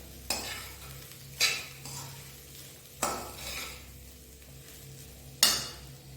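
Poha (beaten rice) stirred into steamed vegetables in a pan, four separate scraping sweeps of the spoon over a low sizzle, close and clear with pauses between strokes.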